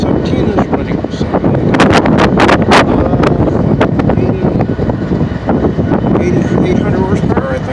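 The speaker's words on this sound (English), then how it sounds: "This wind can be a bit much." Gusty wind buffets the microphone trackside at Greenville while diesel locomotives idle nearby, one shut down and another running; a loud, continuous rumbling roar with sharp broadband gust bursts and no speech.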